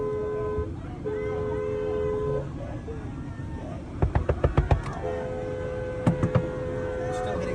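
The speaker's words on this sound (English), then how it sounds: "They're still hitting the car." People bang repeatedly on a car in a chaotic street scene, a burst of about six sharp, loud thumps followed by three more a moment later, over steady crowd noise, a horn-like tone and talk.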